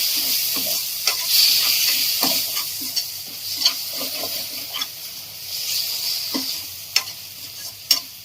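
Onion-tomato masala sizzles and hisses in a hot pan while a spoon stirs and scrapes repeatedly, with occasional sharper clinks against the pan.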